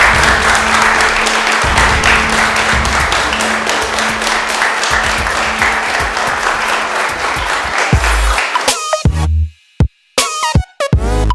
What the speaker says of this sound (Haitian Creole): Sous applaudissement public là, on a fait appel avec Darlene Jean-Marie.